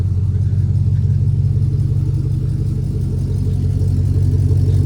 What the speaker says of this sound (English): It's definitely blowing out some exhaust.